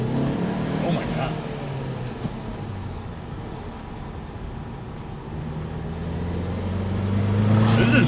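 A manual VW GTI accelerates hard, its engine note droning steadily and building louder toward the end, with people talking and exclaiming over it throughout.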